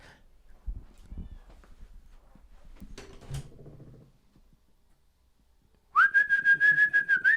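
Quiet shuffling and a few soft knocks, then a loud, drawn-out cat meow close by, wavering in pitch.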